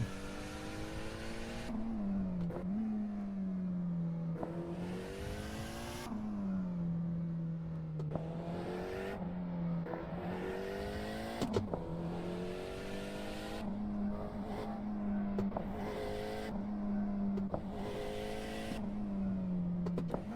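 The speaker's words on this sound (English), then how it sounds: "How high does this thing rev?" A sim race car's engine in Assetto Corsa, revving continuously with rising and falling pitch through repeated upshifts and lifts, loud and close with no talking.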